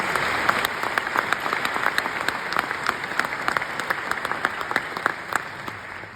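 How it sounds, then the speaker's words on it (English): Graduation ceremony audience gives a round of applause, a steady crackling patter of many hands, moderately distant, running without pause and with no talking over it. "Please join me in a round of applause."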